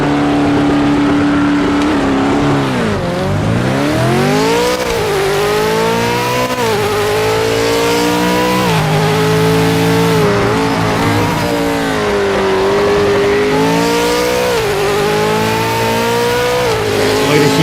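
Race car engine in a racing video game revving hard and climbing through gears, pitch sweeping up and dropping at each shift, loud and continuous throughout with no talk.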